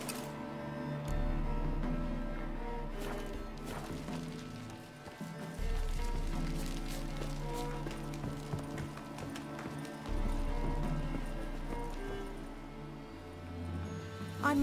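A horse in The Witcher 3 clip-clops along at a steady gait, the hooves moderately loud over a low game soundscape that swells and drops in sections.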